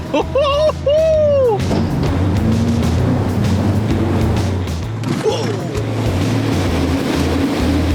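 A 4WD ploughs through a muddy bog hole, its engine growling loud and close while water and mud churn and splash, with a brief squeal near the start.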